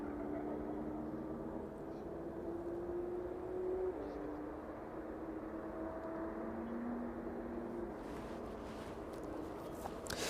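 A West Atlantic cargo plane arriving at East Midlands Airport from Aberdeen, passing low over the M1 motorway: a steady, loud jet roar with slowly gliding engine whine that holds throughout, distant road hiss beneath.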